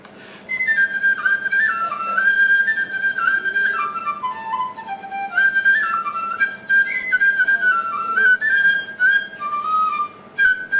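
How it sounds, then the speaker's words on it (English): A bright Irish penny whistle plays a lively, ornamented melody with quick runs and trills, loud and close, continuing steadily throughout. "We think this is an Irish penny whistle."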